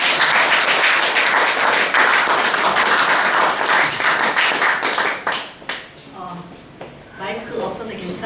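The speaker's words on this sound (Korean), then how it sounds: "이 시간 이제 우리 강사님 나오실 때에 크게 박수로 한번 환영해 주시면 고맙겠습니다." Audience applause welcoming a lecturer onto the stage at a senior counseling seminar on well-dying, loud and dense clapping for about five seconds, then fading into scattered claps and voices.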